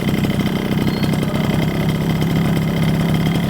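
A Suzuki RC100 motorcycle engine idles close by, a steady low rumble with fast even firing pulses that hold a constant pitch throughout, with no voices over it.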